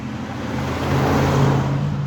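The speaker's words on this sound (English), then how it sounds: "Another car." A car passes nearby outdoors, a broad engine and tyre rumble swelling to a peak mid-way and easing slightly, heard alone without voices.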